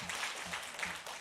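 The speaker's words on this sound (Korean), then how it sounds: "함께 박수로 환영해 주시고요." Church congregation applauding to welcome new members at a New Year's Day Sunday service, a steady, moderate patter of many hands filling the sanctuary throughout the short moment.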